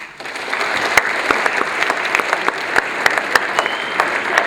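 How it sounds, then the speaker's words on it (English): An audience at a pageant applauds steadily, a dense wash of clapping with a few sharper claps standing out, holding at full strength throughout. "Please give yourselves a round of applause."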